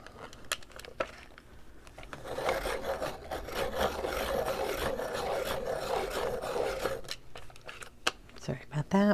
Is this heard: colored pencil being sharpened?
yes